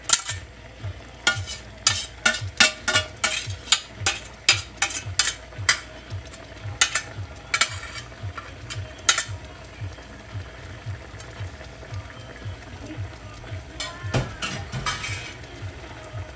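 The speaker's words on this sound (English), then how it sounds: "I'm going to add in my glutinous rice gently into the coconut mixture" Glutinous rice being stirred gently into a coconut mixture in a pan, with rapid, rhythmic scraping and clicking strokes of a utensil over a soft steady sizzle, close and continuous.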